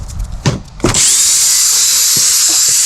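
A power drill brush whirs up after a couple of soft knocks, then scrubs a 2020 Honda Fit steadily with a high, continuous buzzing hiss, up close.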